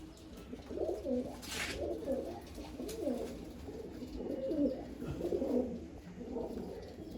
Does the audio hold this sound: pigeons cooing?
yes